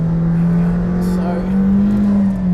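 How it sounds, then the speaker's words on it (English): A McLaren Senna's engine holds a loud, steady drone with shifting pitch while the car drives, with quick gear changes. Continuous and close, no breaks in the sound. "I'm sure you can hear as well as just how razor sharp the gearbox is."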